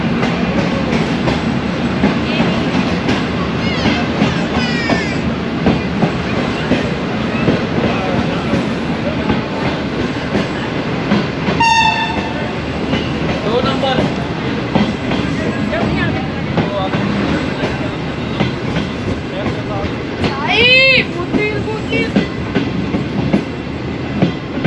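A train rumbles loudly at Bahawalpur railway station, with steady clattering and a couple of brief squeals or horn-like tones, while people talk in the background throughout.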